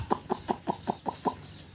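Native country chickens on a farm of about thirty hens cluck in a steady run of seven or eight short, close, evenly spaced calls, with no voices.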